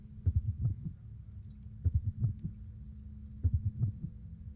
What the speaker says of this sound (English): Scrap Trap has a droning heartbeat.